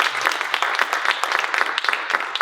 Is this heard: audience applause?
yes